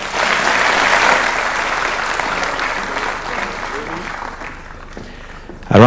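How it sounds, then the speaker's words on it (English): Sustained audience applause at a Kenya youth employment event at State House, dense and loud clapping throughout, easing slightly near the end before a sharp burst. "A round of applause for Murimi one more time."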